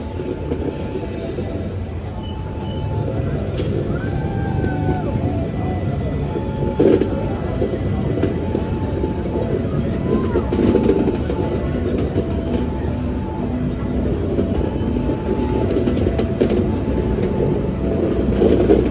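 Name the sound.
Malabar passenger train passing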